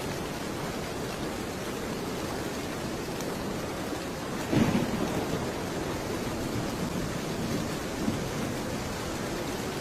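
Steady heavy rain with a low rumble of thunder in a Bengali cartoon, a constant broadband downpour with a brief louder crack near the middle, no voices heard.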